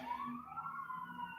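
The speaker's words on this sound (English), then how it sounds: "Do you hear the sirens on the yacht?" Wailing sirens rise and fall faintly in the distance, overlapping tones sweeping steadily with no talking.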